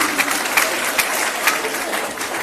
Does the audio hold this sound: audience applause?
yes